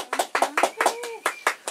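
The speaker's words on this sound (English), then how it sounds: "clap." An audience on a talk show claps for a performance. The quick, even claps come in a steady rhythm, with a voice sounding over them.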